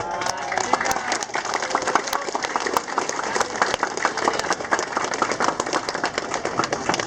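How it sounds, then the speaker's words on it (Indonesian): Audience applause at a school inauguration ceremony for a new state junior high school on Pulau Bawal, Kendawangan, Ketapang, a dense, steady patter of many hands clapping throughout, fairly close and loud, with faint voices mixed in. "Nah, ini boleh tepuk tangan nih."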